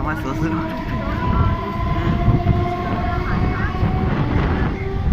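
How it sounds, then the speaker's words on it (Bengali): A train rumbles steadily along the rails, with a low mechanical drone and faint whining tones as it pulls out of Chandanpur station. "চন্দনপুর ছেড়ে যাচ্ছে আমাদের ট্রেন এখন"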